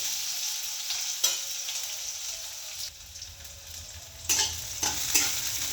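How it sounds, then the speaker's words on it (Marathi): Vegetables with capsicum fry in a spoonful of oil in a pan, a steady close sizzle with a few louder scraping stirs, no voices over it. "बघूया कमी तेलामध्ये भाज्या कशा होतात"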